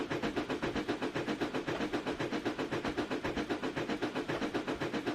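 Steady rhythmic rumbling with regular thumps as train wheels bang over rail frogs in the Trainz 2019 simulator, clacking at a constant pace, loud and continuous.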